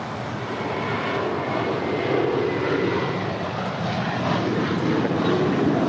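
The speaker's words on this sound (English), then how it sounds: "American Airlines Flight 382 heading to Boston, Massachusetts on an A321." An American Airlines Airbus A321 jet airliner at LAX gives a steady, fairly loud engine roar that swells slightly midway, with no talking.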